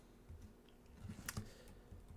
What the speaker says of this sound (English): Use my arrow keys here.